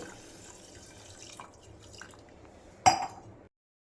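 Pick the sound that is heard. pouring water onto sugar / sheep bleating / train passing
pouring water onto sugar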